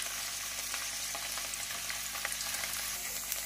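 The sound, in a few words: paneer frying golden in a pan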